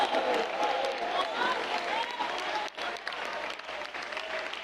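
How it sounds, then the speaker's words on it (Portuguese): Church congregation clapping hands together during a service, sustained dense applause with voices mixed in, cheering and calling out praise, with a brief dip in the middle before the clapping carries on. "desocupem as mãos, batam palmas e glorifiquem ao Senhor Jesus"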